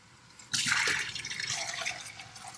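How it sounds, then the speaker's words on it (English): Tap water runs into a sink, rinsing out dirty acrylic paint water after a painting session; a quiet start gives way to a sudden steady, splashing gush that continues close and loud to the end, with no talking. "Let the water run for a second so that it actually flushes it out"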